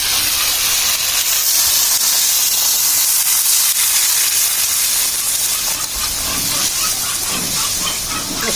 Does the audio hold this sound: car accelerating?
no